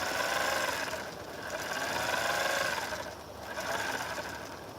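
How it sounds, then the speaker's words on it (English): A sewing machine stitches a quarter-inch seam on fabric for a scissor holder, giving a steady, close mechanical whir and rattle whose speed rises and falls as the stitching goes on. "we're going to sew, I guess, a 1/4 inch"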